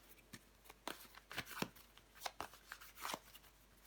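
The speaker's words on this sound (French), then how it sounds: "Je vais recouvrir des cartes." A deck of tarot cards is shuffled by hand in a quiet room, a close, soft series of irregular riffling slaps and flutters with no talk.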